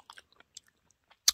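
Crisp bites and chewing on a crunchy chocolate-and-strawberry cream pastry from a convenience store: a few sparse, close crunches, then one sharp, loud crackling bite near the end, in an otherwise quiet room.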